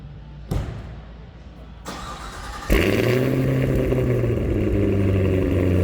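A 2023 Cadillac Escalade ESV V-Series engine cranks briefly, catches and fires up loudly, then settles into a steady, throaty idle close by.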